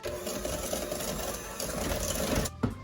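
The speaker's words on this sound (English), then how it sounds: "I'm going to mix this up with my hand mixer until it is very well combined." An electric hand mixer whirs steadily through a lemon batter with zest and juice, a close, continuous motor hum with beaters rattling in the bowl, briefly cutting out near the end.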